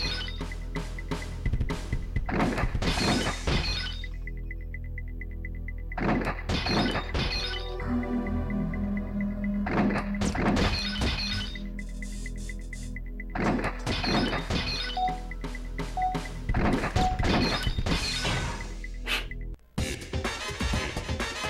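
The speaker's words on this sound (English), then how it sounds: "Shoot 5 clay targets." Clay targets shattered by gunshots in the arcade shooting game Point Blank, a series of sharp smashing bursts spaced out over a steady game tone, moderately loud.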